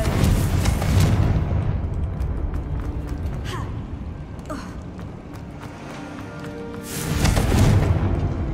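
In Hogwarts Legacy, a Confringo fire spell explodes with a heavy, rumbling blast, its roar fading into a quieter stretch with faint creaks before a second loud burst near the end.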